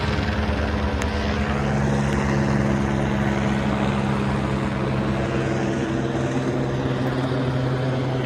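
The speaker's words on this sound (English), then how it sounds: "They've got the helicopter out." A steady, droning aircraft rotor hum, like a police helicopter hovering some distance away over a crash search, holding constant for several seconds with no speech.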